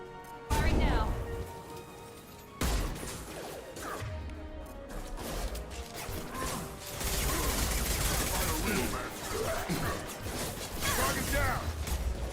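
Mass Effect 2 gunfire breaks out in sharp bursts with abrupt onsets, then settles into sustained rattling shots mixed with mechanical clanks, while voices speak over the combat.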